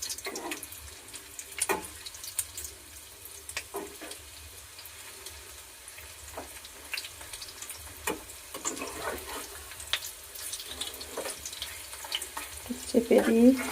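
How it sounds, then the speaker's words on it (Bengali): Prawn pakoras frying in hot oil, giving a steady, close, watery sizzle with scattered crackles and a few louder pops and clatters toward the end. "দিয়ে দিয়েছি, এগুলো ভাজা হোক।"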